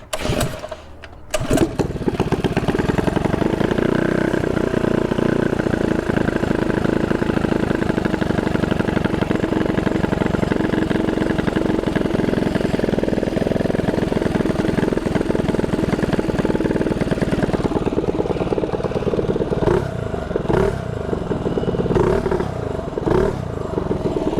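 A Predator 212 mini bike engine, its carburetor just adjusted, starts with a brief sputter and then runs loud and steady up close. It holds a constant rough drone for the whole stretch, with slight wavering toward the end.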